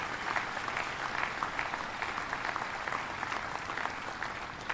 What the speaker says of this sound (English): let's give these great builders a round of applause